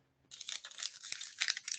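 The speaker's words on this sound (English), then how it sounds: "And I hear some paper crinkling." Paper crinkles and crumples steadily at close range, a dense run of crisp rustling and tearing-like crackles that continues throughout without any talk.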